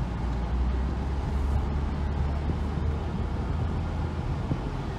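A Nissan Altima SE-R pulls away: a steady, low engine and road rumble, fairly loud and even throughout, with no distinct gear changes and no voices.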